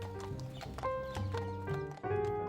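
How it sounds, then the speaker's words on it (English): Horses of a mounted Carabinieri police patrol clip-clop on their rounds through a park in Rome, a steady run of close hoof strikes over sustained tonal sounds. "patrolling the park on horseback makes perfect sense"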